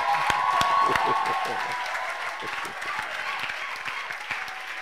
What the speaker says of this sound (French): Acclamons un peu les femmes.